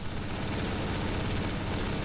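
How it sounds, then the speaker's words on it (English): Dense, continuous gunfire from several weapons in the shooter game Counter-Strike: Global Offensive, a loud unbroken barrage lasting the whole moment with no pauses and no talk. "Okay, okay, 3, 2, 1, start shooting!"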